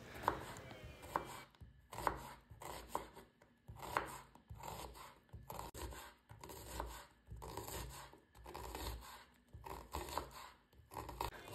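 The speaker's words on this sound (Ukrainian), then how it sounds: "Далі я беру дві середніх цибулини та нарізаю їх напівколечками." Two medium onions are sliced into half-rings with a knife on a cutting board, producing rhythmic bursts of crisp chopping strokes close by, repeated steadily with short pauses and no talking.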